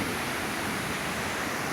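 Li Phi Falls on Don Khon in Laos roars as a loud, steady wash of rushing water, broad and unbroken, with no voices over it.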